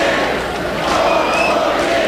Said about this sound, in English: A very excited crowd here inside the Renaissance, and they have packed it now wall to wall.